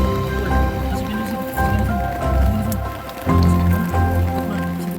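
Heavy rain drums on a tent on the Mount Slamet trail, a loud, close, constant patter with people talking over it.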